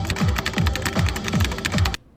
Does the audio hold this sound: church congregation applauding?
no